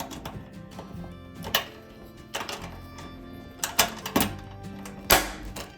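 Plastic piece being pushed into place on a dryer door, a series of sharp clicks and knocks at irregular intervals, close and fairly quiet.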